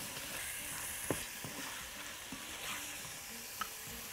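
Tomato sauce being stirred into rice kofta in a pan, a soft steady sizzle with a few light scrapes and clicks of the spoon, close and alone.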